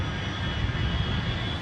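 American Flight 1, an Airbus heavy airliner from New York JFK, lands on runway 24 left at Los Angeles. A steady, loud, broadband jet-engine roar fills the short clip with no voices.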